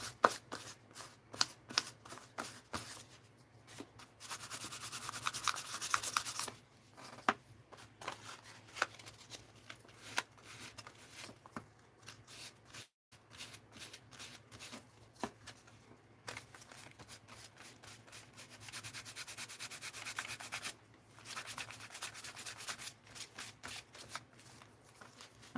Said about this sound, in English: I got a little piece of sandpaper here. Let's just sand a little across here.